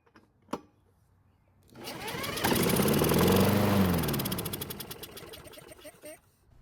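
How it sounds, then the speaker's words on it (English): A Craftsman lawn mower engine is spun with a drill, then fires and runs loudly for a few seconds with a fast, even knocking pulse before winding down, after a sharp click at the start. "even though this engine only ran for about 2 seconds, it sounded really healthy with no strange noises coming from it"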